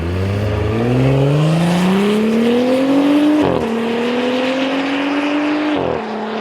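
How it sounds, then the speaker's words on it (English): Exhaust note of a 2018 Audi SQ5 under acceleration, a rising engine drone climbing through two gear changes with brief dips at each shift, loud and steady throughout. "An easy way might be listen to the exhaust."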